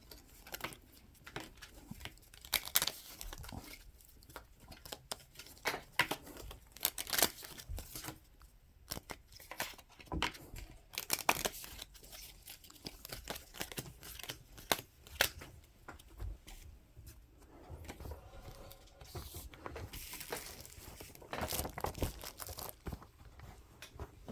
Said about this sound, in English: both players shuffle those and then draw 5